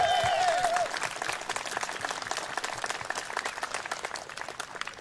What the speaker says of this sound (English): can we right now just give Aaron a big, big, huge round of applause?